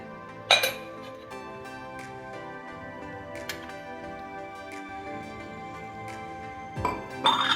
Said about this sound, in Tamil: நான் பொடிக்கு நல்லெண்ணெய் கலக்கிறேன்.